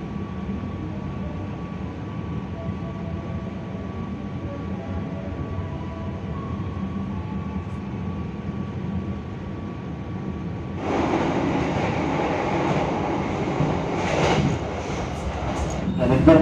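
Jaka Tingkir passenger train running between Kutoarjo and Wates stations at night, a steady low rumble of wheels on rail heard from inside the carriage, growing louder and rattlier partway through.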